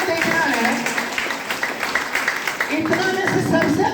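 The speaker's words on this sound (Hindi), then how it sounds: "जोरदार ताली।" Loud applause from an audience at a DXN health and wealth seminar in Dhakdhai, Nepal, dense and steady throughout with crowd noise and voices mixed in.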